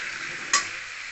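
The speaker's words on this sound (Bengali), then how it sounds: "সয়াবিন আলুটাকে আমি ভালো ভালো করে ভাজে নিতে হবে, একদম লাল লাল করে" Soybean chunks and potato frying in a pan, a short steady close sizzle with a quick stir scrape in the middle.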